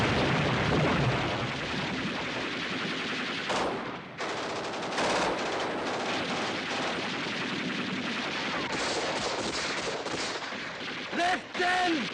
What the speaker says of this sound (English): Mortar. Machine guns.